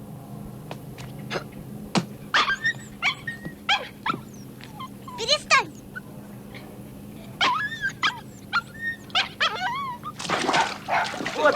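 A dog whimpers and yips in repeated sharp, close cries and short barks, with a brief spoken word from a person among them.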